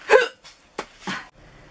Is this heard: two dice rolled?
no